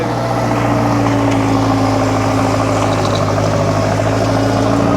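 An old tractor on a Swiss farm runs with a steady, droning engine hum that holds close and loud throughout, with no talk over it.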